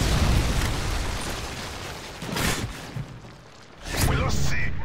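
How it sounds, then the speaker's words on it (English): Predator missile strike in the Modern Warfare 3 video game: a dense roaring rumble fades, then two booming blasts a second or so apart, the last a broad explosion trailing into noisy debris. "Friendly Predator missile inbound."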